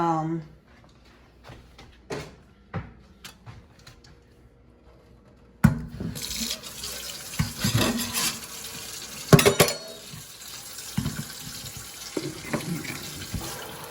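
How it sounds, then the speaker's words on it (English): Grease being drained off cooked beef, splashing and pouring like running water into a sink, with intermittent clatter before a louder continuous stream; a person talks over it. "I'm just draining the grease off of this."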